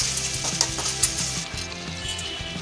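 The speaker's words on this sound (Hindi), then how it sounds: "इनको अच्छे से मिक्स करके थोड़ी देर भून लेते हैं।" Ground spice masala with red chili powder, salt and garam masala fries in hot oil for a cashew makhana curry, a close steady sizzle with a few soft stirring clinks.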